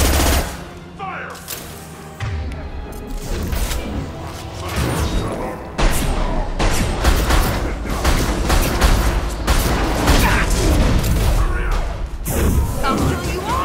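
Sustained gunfire in Mass Effect Legendary Edition, dense rapid bursts and heavy booming shots crackling loud and near, with game voices shouting over the barrage.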